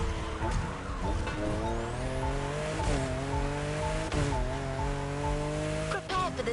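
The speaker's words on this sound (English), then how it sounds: "There's an absolute classic heading your way, a grail among collectors, and Jim's greatest pride, the Mustang Boss 429" Ford Mustang Boss 429 muscle car in The Crew Motorfest, its engine droning steadily with rising and falling revs as it drives, accompanied by tire squeal and faint voices.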